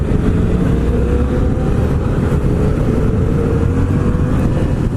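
A Yamaha MT-07 (FZ-07) motorcycle throttled hard into a wheelie, a loud continuous engine roar mixed with heavy wind rush, steady and close for the whole stretch.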